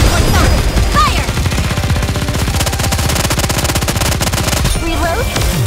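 Rapid machine-gun fire from a squad in the game Goddess of Victory: NIKKE, a loud continuous automatic burst with dense, evenly spaced shots that runs through almost the whole stretch, with some game effects on top.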